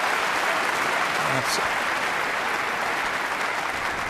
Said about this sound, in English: And that will get a terrific round of applause.